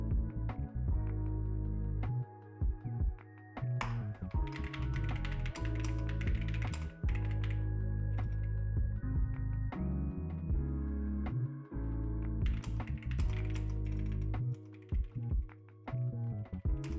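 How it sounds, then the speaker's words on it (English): A new computer keyboard is typed on steadily and up close, with irregular bursts of clacky keystrokes and a few brief pauses, set against a constant low background tone. "What's this new keyboard sound like?"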